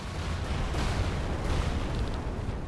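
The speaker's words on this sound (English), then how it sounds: "Explosions?" A dense, rumbling burst of explosions at a research facility in the video game Chained Echoes rolls on for a few seconds, booming and crackling with no speech over it.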